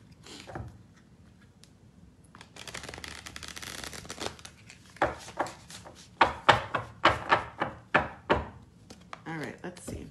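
Crisp riffling bursts of cards being shuffled, a rapid run of sharp flutters growing louder toward the end, with brief soft taps between.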